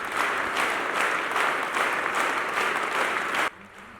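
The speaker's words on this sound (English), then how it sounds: "the sound of the applause had to remain above 80 decibels" A large crowd at a Phaneroo Ministries gathering applauds loudly during a world-record attempt for the longest applause. The dense, sustained roar of clapping runs steadily for three and a half seconds and then cuts off abruptly.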